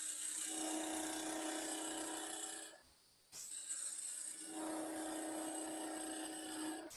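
A wood lathe spins, its high whining hum joined by the scraping of a turning tool on the wood. The sound cuts out briefly near the middle, then resumes at a steady, close level with no voices.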